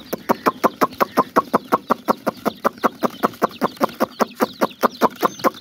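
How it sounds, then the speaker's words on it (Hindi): Young chicks taken out of a carton peep steadily and loudly up close, a rapid, regular series of sharp chirps repeating about four times a second with no break. "इस कार्टन दे विच हैगे ने चूज़े सारे मेरे, मैं इन्हों चा के लै जांदा बाहर धुप ते।"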